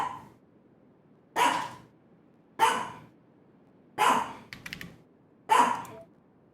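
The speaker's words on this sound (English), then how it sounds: "He thinks he's a guard dog." A tiny dog of about three pounds barks four times in short, sharp, evenly spaced yaps, fairly close and alone, with a faint rattle after the third bark.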